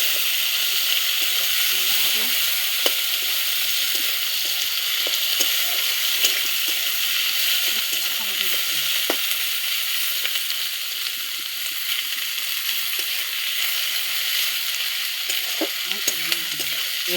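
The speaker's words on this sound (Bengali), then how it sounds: "দুটো তেজপাতা দিয়ে দিলাম আর পেঁয়াজটা এখন ভালো করে লাল লাল করে ভেজে নেব" Onion frying with bay leaves in hot oil, a steady bright sizzle with occasional stirring scrapes, close and continuous throughout, no voices.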